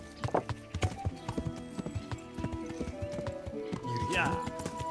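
Horse hooves clip-clop in a steady rhythm during riding in the game Kingdom Come: Deliverance, with a brief whinny near the end and someone talking over the hoofbeats.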